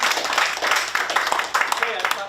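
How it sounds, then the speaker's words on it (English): A small audience at a community gathering claps in support of zero waste, a short irregular patter of hands with voices over it. "Applause for zero waste."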